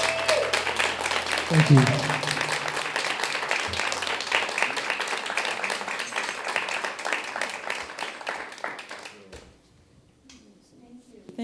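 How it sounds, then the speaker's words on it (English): An audience applauds loudly and steadily for several seconds before the clapping thins out and fades, with a brief spoken thanks over it. "Another round of applause, please."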